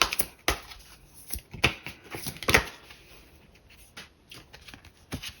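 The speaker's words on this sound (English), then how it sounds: "So shuffling Everyday Witch Tarot today." Crisp riffling and tapping clicks of an Everyday Witch Tarot deck being shuffled by hand, close and in irregular bursts that slow toward the end, heard alone.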